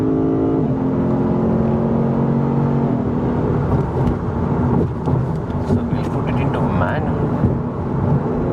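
A Lexus RC F with a 5.0-litre V8 accelerates hard, its engine rising in a strong continuous roar with gear-change dips, loud and close, with a voice talking over it.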